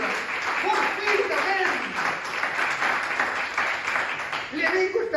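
A church congregation claps and cheers in a sustained wave of applause while a preacher shouts over it.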